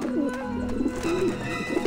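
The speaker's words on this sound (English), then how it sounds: "Back off, birds!" Pigeons in the Grim Fandango Remastered video game give low, rolling coos that repeat one after another at close range over a steady ambient hum.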